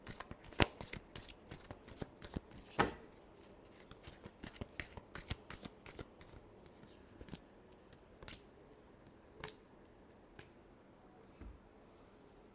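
Tarot cards being shuffled by hand in a quick riffling run of crisp snaps and flutters that later thins into sparse taps, close and clear with no talking.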